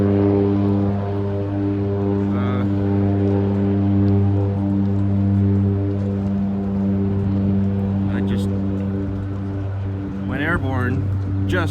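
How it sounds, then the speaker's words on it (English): A Harbour Air seaplane at Canada Place in Vancouver harbour gives a steady, loud propeller-engine drone that holds throughout as it takes off, while voices talk over it. "here's a glimpse of the seaplane that's about to take off"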